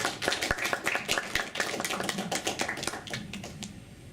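Audience at an indigenous and Afro-descendant rights event applauding a speaker, a rhythmic clapping that starts full and thins out gradually, heard fairly close with no voices over it.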